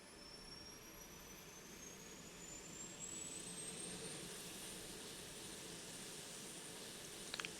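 The APU of a C-130 Hercules spooling up in the DCS World flight simulator, a steady turbine whine that slowly rises in pitch over a constant broadband rush, heard alone at a moderate, even level.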